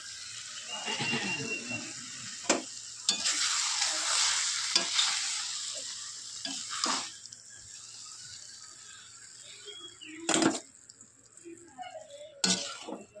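A spoon stirs Bengali cabbage curry with potato in a hot pan, making a close, sizzling scrape with intermittent sharp clacks against the pan.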